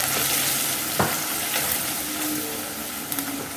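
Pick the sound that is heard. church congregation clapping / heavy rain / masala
masala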